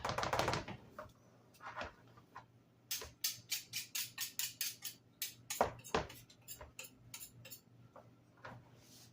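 A whisk beats pizza casserole ingredients in a bowl, a fast run of sharp clicking metal taps in a steady rhythm, close and fairly quiet, with a few louder knocks at the start and middle.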